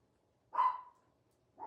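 A dog barks twice out of view, one sharp, fairly loud bark followed by a brief pause and the start of another, with no talking.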